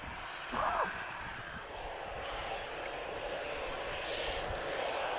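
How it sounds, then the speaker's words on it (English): A TAP Express Embraer E190 long-range airliner bound for Valencia takes off from Lisbon Airport, a steady, broad roar held at a distance for the whole stretch, with a brief breathy sound near the start. "TP1094 guys, off to Valencia. This is another Embraer E190 long range."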